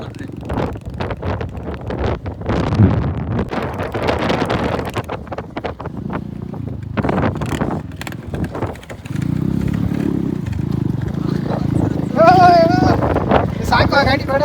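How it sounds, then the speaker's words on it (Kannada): Heavy wind at night near a shed buffets the microphone in loud, gusting rumbles while people talk throughout. "ಬೇರೆ ಹೆವಿ ಗಾಳಿ"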